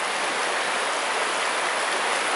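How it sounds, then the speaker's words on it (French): A powerful river rushes in a steady, loud broadband roar that fills the whole stretch with no gaps and no voices. "la rivière est tellement puissante aujourd'hui que c'est pas possible"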